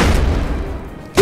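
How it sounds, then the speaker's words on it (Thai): An explosion in the video game Rust: a loud, deep, rumbling blast that fills the whole moment, ending in a sharp, brief burst. "โดนระเบิดเฮ้ยมันยิงระเบิดนี่หว่า"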